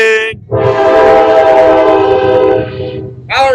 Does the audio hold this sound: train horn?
yes